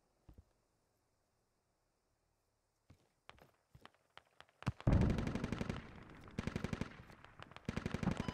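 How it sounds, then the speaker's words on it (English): Gunfire in the tactical shooter game Squad: a few isolated sharp shots and scattered footsteps, then dense rapid automatic bursts take over loudly for the last few seconds. "I'm hearing shooting not too far away from me, and I did definitely hear shooting right here by me"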